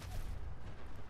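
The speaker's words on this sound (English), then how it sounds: "These cars have such a huge explosion." Huge car explosion set off by thrown grenades in the video game Fallout 4, a loud, sustained low rumbling boom that fills the whole stretch without pause.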